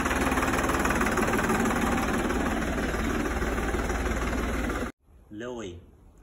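A New Holland 5620 4x4 tractor engine running close by, a loud steady chugging drone with a high whine, cutting off abruptly near the end before someone speaks.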